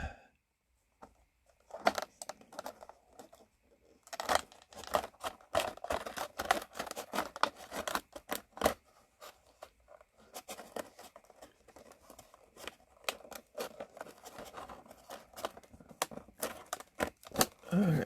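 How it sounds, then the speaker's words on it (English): Scissors or a blade snip and crinkle through a plastic blister pack holding an action figure, giving quiet irregular cuts and crackles with brief pauses, close by and with no talking. "let's go ahead and cut him on out of the bubble"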